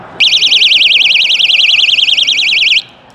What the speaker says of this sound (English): this is a safety alarm